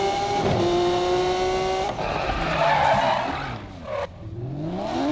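Tires squeal through a burnout in the Need for Speed video game, a loud continuous skidding screech with engine roar and smoky spin, running steadily for several seconds with no talk.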